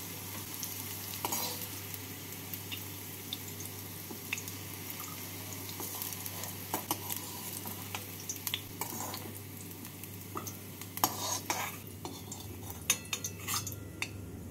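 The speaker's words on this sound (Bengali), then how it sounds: "করলাগুলোকে আমি এভাবে হালকা লাল করে ভেজে নিলাম।" Sliced bitter gourd sizzles steadily in hot oil in a kadai, a continuous crackling hiss with occasional sharper pops and faint clinks of a utensil against the pan, close and fairly loud with no talking.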